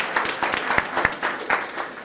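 An audience at an academic history event gives a round of applause for visiting colleagues from Ocoee, sparse, distinct claps rising from a modest crowd in a loose, uneven rhythm.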